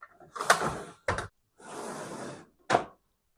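A makeup drawer slides open and shut in a few quick swishing scrapes with short bumps, close by and with no talking.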